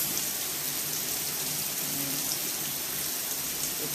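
Heavy rain pours down steadily in Dubai, a dense, even hiss of water drumming on surfaces with no pauses, loud and close throughout, with no voices.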